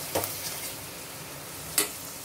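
Pav bhaji vegetables being stirred in a hot pan, with two brief scraping stir strokes over a low, steady sizzle, quiet and close.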